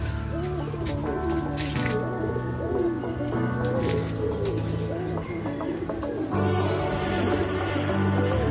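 Racing pigeons just back from a 148 km race from General Luna, Quezon, coo continuously in a loft, with layered throaty calls close by and no talking.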